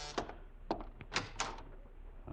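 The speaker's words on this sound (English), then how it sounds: "Better open the door." A door being opened as a radio drama sound effect: several close thunks and knocks of latch and wood in quick succession, fairly dry and near, with no voices.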